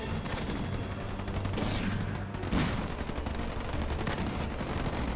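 Dense, continuous gunfire from sniper units in the real-time strategy game Halo Wars 2 during a 2v2 match, with layered shots and explosions forming a steady loud barrage throughout.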